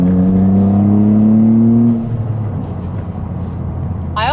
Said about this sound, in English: I personally love the exhaust. I think the exhaust added a nice exotic touch to it.